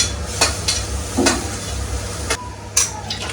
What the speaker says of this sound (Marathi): आता टोमॅटो आपला थोडा परतून झालेला आहे, बघू शकता.